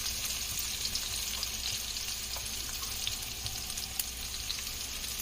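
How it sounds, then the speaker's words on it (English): Shallots sizzle in melted butter in a pan at medium heat, a steady broadband frying hiss with faint crackles throughout, no voices. "once your butter is nice and melted, you can add your shallots."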